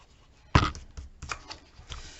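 Short papery rubbing and tapping strokes sound as a glued album page is burnished by hand, one sharp scrape followed by a few lighter, uneven rubs, close and quiet.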